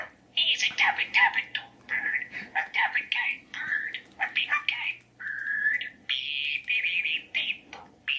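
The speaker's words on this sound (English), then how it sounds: "you guys are now watching a parrot" Squawks, chirps and whistly parrot calls come in short repeated bursts, with a thin, reproduced quality, played through a Bose SoundLink speaker.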